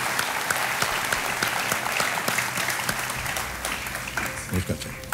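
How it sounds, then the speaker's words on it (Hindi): Steady, dense clapping from a studio audience at a televised quiz show, sustained for several seconds at an even level with a few louder bursts near the end. "बहुत बहुत तालियों के साथ उनका हम स्वागत करते हैं।"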